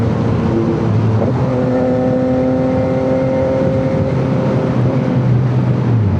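An 890cc motorcycle engine drones loud and close while riding on the SCTEX expressway, its pitch climbing briefly near the start before holding a steady, sustained tone over rushing wind noise.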